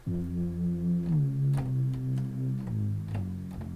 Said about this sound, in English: So then I've taken this low pad and sub bass